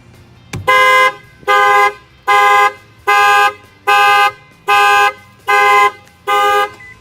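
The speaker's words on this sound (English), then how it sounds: "That will fire off the alarm." A Lexus GS350's aftermarket shock-sensor alarm goes off after a bang on the wheel rim, sounding seven loud, evenly spaced horn-like tones of about half a second each, close by with no talking.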